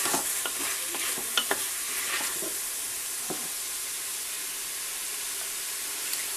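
Food stirred in a pan with sugar and beef broth in a Cookeo cooker, a steady close hiss with a burst of scraping utensil clicks early on, then a calmer even sizzle with no talking.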